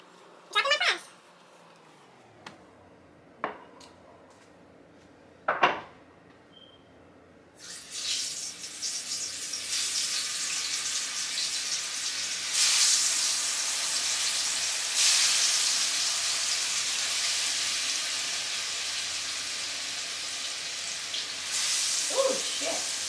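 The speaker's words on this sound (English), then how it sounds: "I'm gonna take my potatoes over to the frying pan and I am going to start" A few clunks and knocks, then potato fries hit hot oil and sizzle loudly in a frying pan, a steady crackling hiss that swells and continues.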